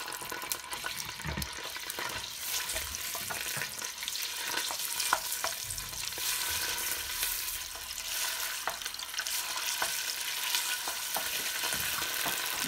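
Tomato frying in oil in a pan, a steady sizzle with light stirring and faint clinks, sustained and fairly close throughout, with no talk.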